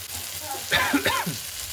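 Spice paste sautés in a pan for a Bengali fish-head and mixed-vegetable charchari, hissing steadily with a brief louder burst of sizzling and stirring in the middle.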